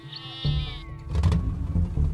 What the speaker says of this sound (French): Le berger qui balade ses moutons entre les dents de dragon